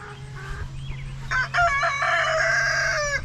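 Chickens cluck softly near a backyard fence before a rooster breaks into a loud, drawn-out crow, close by, over a low steady hum.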